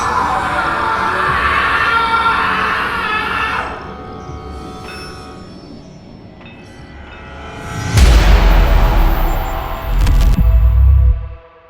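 Children's crowd commotion at a village school as classes let out, loud boisterous shouting that drops to a quieter murmur, then swells again with booming, rumbling bursts near the end, styled as an audio-story effect.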